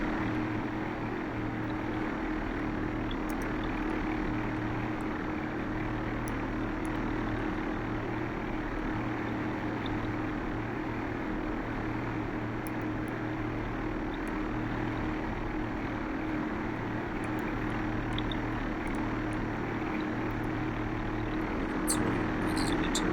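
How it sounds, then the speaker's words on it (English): A propeller aircraft flies level at about 20 meters altitude, giving a loud, steady engine drone with a constant low-pitched propeller hum heard close and unbroken throughout. "The aircraft is pretty much tuned now in a state of level flight."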